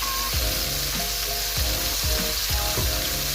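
Beef burger patty seasoned with Worcestershire sauce and Montreal seasoning sizzles steadily in a hot pan after being flipped, a constant frying crackle with soft scraping clicks, close and alone.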